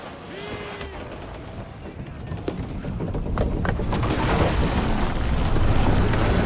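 Ship cannons fire in the naval battles of Assassin's Creed IV Black Flag, heavy booms that build into a loud, rumbling barrage close by, with scattered sharper cracks and battle clamor.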